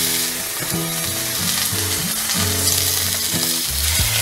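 Steaks seasoned with salt, pepper and garlic powder sear in a hot pan, a loud, dense, continuous sizzle with low background tones running underneath and no talk.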